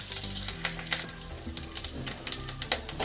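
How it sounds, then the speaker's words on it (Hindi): Ginger paste and green chillies sauté in hot oil with a steady, close sizzle and crackle, broken by short sharp spatters and spoon taps throughout. "अब इसमें हम अदरक का पेस्ट डाल देते हैं और ये हरी मिर्च को भी मिक्स कर देते हैं"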